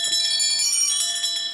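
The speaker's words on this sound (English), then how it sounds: "Let's hear your jingle bells." Several bells jingle continuously in a bright, steady ringing at a party-style game show, with no talk over them.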